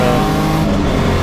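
A BMW E36 turbo race car in a Class C BMW Race Series race at Kyalami roars loudly and continuously up close, its engine note dense and unbroken.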